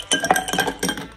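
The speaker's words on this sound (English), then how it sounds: "Add some ice." Ice cubes clinking and knocking into a cocktail glass holding lime juice and strawberries for a strawberry Moscow mule, several sharp bright clinks in quick succession, close and clear.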